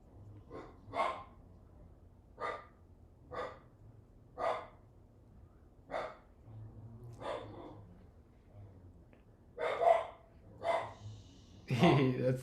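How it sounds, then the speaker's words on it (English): A dog barks in a repeated series of single, evenly spaced woofs, fairly quiet and close, ending in a louder cluster of barks, with a few faint yips between. "That's the sound of an attentive doggy."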